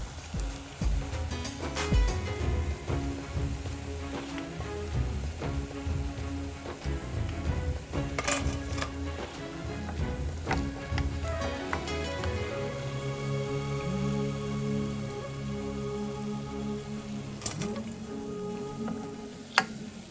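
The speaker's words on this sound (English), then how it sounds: "Fry for about 3 minutes on each side to brown evenly." Medu vada, savory lentil fritters, fry in hot oil in a pan. The oil gives a continuous crackling sizzle with scattered pops and a few sharper clicks, and nobody speaks.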